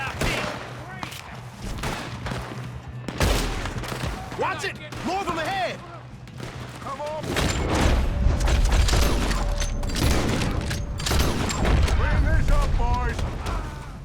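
Gunfire in a Red Dead Redemption 2 shootout against the O'Driscolls, with repeated sharp shots and heavy booming blasts in irregular bursts, mixed with voices talking and shouting over the fight.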